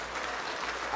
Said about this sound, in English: give a lusty, hearty round of applause, as I know we can, for Al-Hikmat